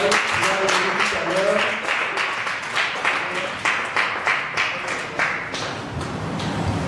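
A church congregation applauds a gospel music group in steady, sustained clapping that fills the room, with voices mixed in and a brief swell near the end.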